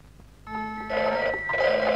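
A telephone bell rings loudly and close, an electric trill in two bursts after a brief quiet start, with no talk over it.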